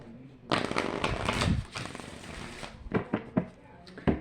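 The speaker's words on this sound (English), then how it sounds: "shuffle these 3 more times" Tarot cards shuffled by hand in a long riffling burst, followed by several short, separate shuffles, close and crisp, with a little talk mixed in.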